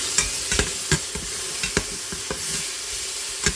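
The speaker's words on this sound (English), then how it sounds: "And the garlic. And let that saute up just a little bit." Onion and garlic sauté in a pan with leftover grease for a soup or chili, a soft continuous sizzle punctuated by regular spatula scrapes and taps.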